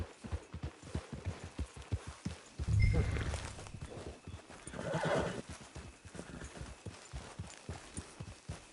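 A horse in the Red Dead Redemption 2 Online video game walks with steady, even clip-clop hoofbeats, and a loud whinny breaks in partway through over soft background ambience.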